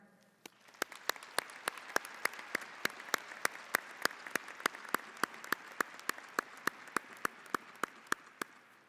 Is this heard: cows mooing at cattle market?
no